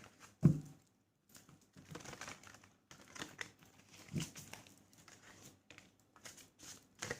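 Soft, intermittent papery crinkles and light taps, with one sharper thump near the start, scattered across quiet pauses as tarot cards are handled and shuffled close by.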